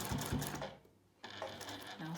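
Sewing machine backstitching the binding of a quilt-as-you-go patchwork coaster, with short close bursts of mechanical stitching around a brief pause.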